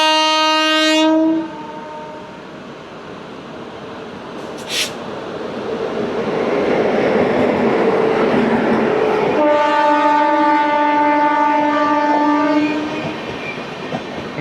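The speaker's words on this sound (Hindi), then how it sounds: "यहाँ पे तेजस आ रही है हाई स्पीड पे।" Tejas Express, a private train, passing at high speed beside a passing loop, sounding its horn at the start and again later, with a loud sustained rush and rumble of the cars going by, no talking.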